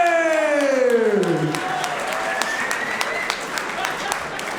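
A crowd at a fight event applauds and cheers loudly for two young fighters, with dense, steady clapping throughout and a long drawn-out shout at the start.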